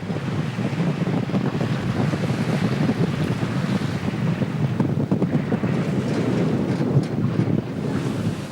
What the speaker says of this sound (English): The sea is agitated today, just how he likes it.